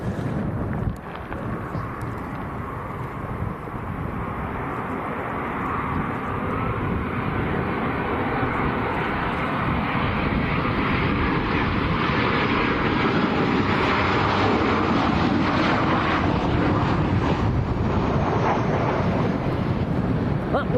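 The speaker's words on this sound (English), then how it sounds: "Aeroplane sneaking in behind us, Tom." A Ryanair airliner landing in a strong crosswind at Lanzarote airport gives a loud, steady engine roar that swells and sustains throughout, heard outdoors over heavy microphone wind buffeting.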